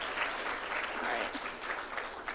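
A roomful of people applauds presenters at an evening honors program ceremony, with dense, even clapping that holds steady for a couple of seconds without speech.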